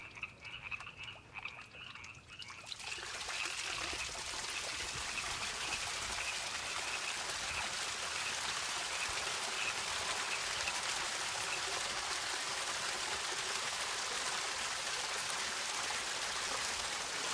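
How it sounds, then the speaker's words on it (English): After a few quiet seconds, a garden fish pond waterfall starts up and continues as a steady, full splashing roar of rushing water pouring nearby. "let's turn on the waterfall."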